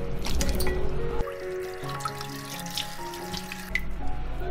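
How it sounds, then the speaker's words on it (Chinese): Blanched meat is rinsed clean under running tap water in a sink, a close splashing flow at the start that drops away and then returns at the end, with light background music. "焯烫好了，捞出来清洗干净"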